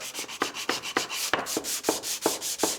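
Sandpaper rubs by hand across an old finished wood surface, a quick steady back-and-forth scratching of about ten close strokes.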